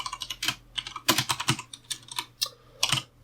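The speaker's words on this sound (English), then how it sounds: "I can just type in whatever information I want" Typing on a computer keyboard, a quick irregular patter of close key clicks with brief pauses, heard alone without speech.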